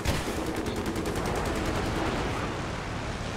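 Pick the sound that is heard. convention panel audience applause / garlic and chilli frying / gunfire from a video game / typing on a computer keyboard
gunfire from a video game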